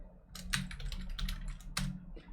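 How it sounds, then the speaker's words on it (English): Quick bursts of typing on a computer keyboard, a short run of close, crisp key clicks with a brief pause near the end, no voices. "Let's type in that."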